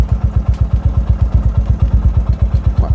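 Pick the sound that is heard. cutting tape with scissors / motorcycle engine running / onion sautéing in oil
motorcycle engine running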